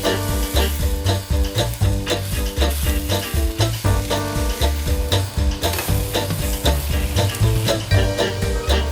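Veal shanks browning in a pan for Julia Child's osso buco, with a steady loud sizzle and frying crackle running throughout, plus occasional stirring scrapes and clatter layered over a dense background.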